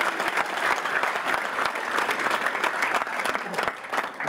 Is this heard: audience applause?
yes